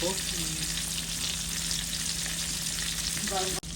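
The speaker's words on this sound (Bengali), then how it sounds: "আমাদের মাছ উল্টে দিছে এক পিস ভাজা হয়ে গেছে" River fish frying in a pan of hot oil make a loud, continuous close sizzle with a little stirring, and no one speaks.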